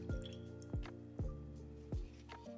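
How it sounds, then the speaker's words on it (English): Lemon juice poured into a salad dressing in a home kitchen, heard as four separate low, resonant liquid plops and drips spaced evenly about half a second apart, close and fairly quiet, with no talking. "we're going to start first by pouring in our lemon juice"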